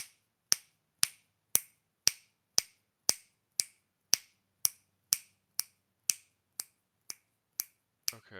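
A long, steady run of about sixteen sharp finger snaps, evenly timed roughly every half second, sounds close and clear with no voices.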